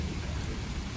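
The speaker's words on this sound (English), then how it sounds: "You can hear the thunder in the background." Heavy rain pours down in a dense, constant roar, with a low thunder rumble mixed in beneath it during a downpour over a flooded town.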